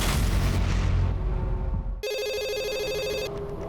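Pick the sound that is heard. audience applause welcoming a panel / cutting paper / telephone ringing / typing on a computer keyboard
telephone ringing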